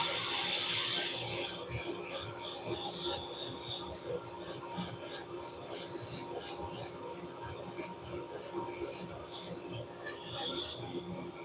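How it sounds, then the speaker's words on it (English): Sandpaper rubs against a spinning wood-turned bowl on a lathe, giving a steady, close, raspy hiss with slight rhythmic scraping and the faint hum of the machine beneath. "we'll just do a final little bit of sanding here"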